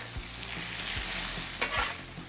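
Vegetables soften in melted butter in a pan, a steady bright sizzle broken by several low scraping stirs of a spoon, close and continuous with no talking.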